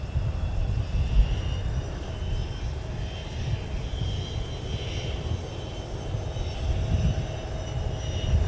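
An ex-Northwest Airbus A320 airliner arriving from Indianapolis at Minneapolis–St. Paul airport, its engines a steady, low, distant rumble and whine that holds throughout.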